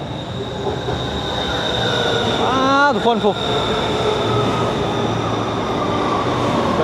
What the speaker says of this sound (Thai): รถไฟมาเลย